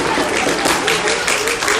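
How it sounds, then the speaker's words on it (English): Audience applause at an evening Torah learning session, a steady broadband patter of clapping lasting under two seconds, fairly loud and continuous with no clear break. "a round of applause for all of the beautiful children"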